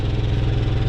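The onboard generator of a 2018 Keystone Raptor 398TS RV, with about 425 hours on it, runs steadily at its exhaust, a loud, close, constant mechanical drone with no voices.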